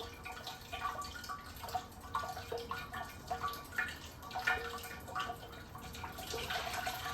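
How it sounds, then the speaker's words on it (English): Coolant drains from the leaking cooling system of a 2002 Land Rover Discovery 2, a steady faint trickle with scattered drips running continuously, no voices. "By the time I fill it up, it's all draining right through."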